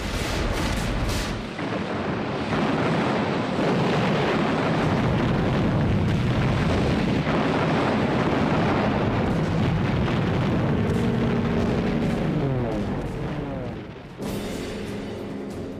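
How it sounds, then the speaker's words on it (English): Constant air and naval bombardment on Iwo Jima in 1945 rumbles as a dense, loud wall of overlapping explosions and heavy booms, unbroken for the whole stretch. "They were supported by a constant air and naval bombardment from the invasion fleet."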